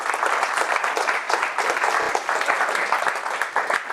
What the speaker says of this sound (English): a big round of applause for our speakers to date.